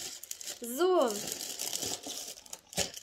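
Crinkly plastic bag being handled and opened close up, a steady rustle running through the whole moment with a brief spoken word and a voiced exclamation over it.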